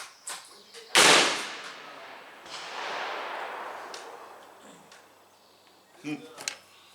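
A single loud, close M-1 rifle shot fired with Speer 168 ammunition at a target range, a sharp crack followed by a long rolling echo that decays over several seconds, with faint clicks and handling noise afterward.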